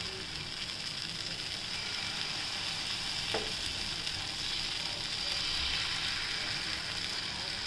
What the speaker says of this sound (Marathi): आता आपण दुसरा डोसा टाकूया.